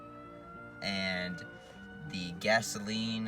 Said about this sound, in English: I apologize if you can hear that siren.